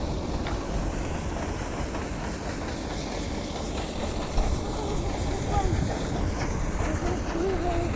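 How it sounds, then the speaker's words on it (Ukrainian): Combine harvester at work in a dusty field during harvest, a steady low mechanical rumble and rattle throughout with a voice speaking over it. "Зараз кобайн Кирил від'їде, потім зайдеш на прицепчик."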